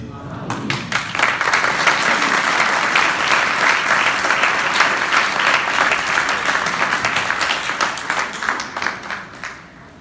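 An audience at a Catholic Bible study session claps loudly and continuously. The applause swells quickly, holds strong for several seconds and tapers off toward the end.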